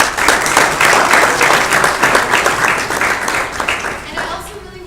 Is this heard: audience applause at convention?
yes